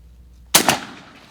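A single loud, close gunshot fired at a wild turkey during a spring hunt in Oregon, a sharp crack with a quick echo that decays over the next half second, following near silence.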